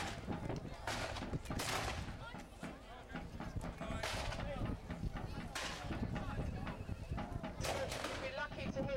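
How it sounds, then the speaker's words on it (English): Rifle fire at a Napoleonic battle reenactment, Baker rifles giving covering fire from the right flank, heard as several sharp reports spread out over the field. A voice commentates over the shots. "Some of the men are up on the right flank and they're covering fire from the rifles."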